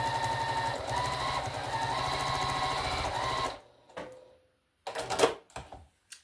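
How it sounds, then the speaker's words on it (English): A sewing machine stitching a string potholder runs steadily and close for several seconds with a fast mechanical whir, then stops, followed by a few soft handling clunks and rustles. "Then you take the next piece and sew it the same way."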